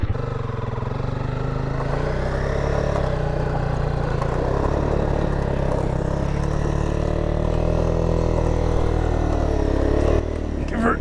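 An adventure motorcycle bogged in sand on a ride in Argentina revs hard and continuously, a loud, close, sustained engine drone with wavering pitch, while a rider's voice talks over it.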